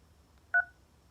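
A single short two-tone telephone keypad beep sounds once, clear and isolated against near silence, as a button is pressed on an automated bank phone menu.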